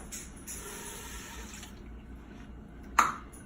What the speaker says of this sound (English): Then I'm going to put a cup of water into the bottom of the Instant Pot.